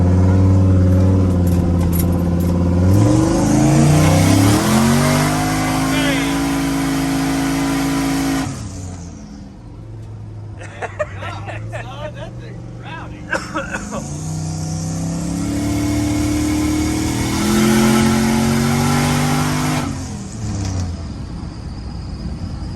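A car engine revs at half throttle, climbing loud and near, drops off, then revs hard again; the car has just had a fuel pressure problem worked on, and voices talk briefly between the revs.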